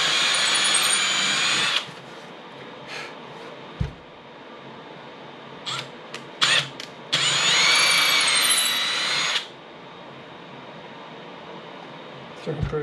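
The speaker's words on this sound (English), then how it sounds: "We're just going to take that final step into the larger hole that we drilled using this thin one." A power drill widening a pilot hole to seat a bridge, two sustained high whirring runs with short quiet gaps and small tool knocks between them, close and loud.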